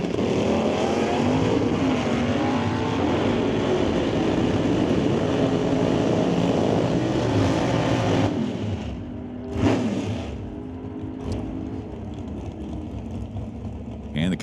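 A 1964 Comet and a 1977 Chevy Camaro in a drag race, engines roaring loud and steady as they run side by side down the strip, then the sound dropping away as the cars pass and fade, leaving a quieter background with faint crowd noise.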